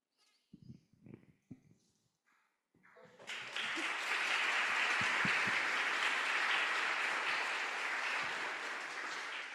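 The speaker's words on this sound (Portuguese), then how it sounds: "O bom é que o pessoal aplaude, né?" Audience applause at a panel discussion on human rights education, school coexistence and mental health: a few scattered claps, then a dense sustained wash of clapping that swells and holds steadily to the end.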